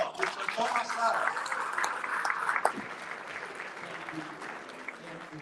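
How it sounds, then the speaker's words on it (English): Audience clapping at an annual ethnic press and media awards celebration in Canada, a moderately distant, sustained round of applause that gradually thins out over several seconds. "Let's give him a big round of applause."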